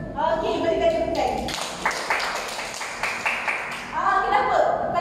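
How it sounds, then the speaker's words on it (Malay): Audience clapping at a talk, a burst of applause in the middle that fades as a speaker's voice returns on either side. "Okey, berikan tepukan."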